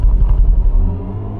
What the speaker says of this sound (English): I've got what's known as iconic sound set on this car. So you got this weird noise when you accelerate and decelerate, which has been created by Hans Zimmer.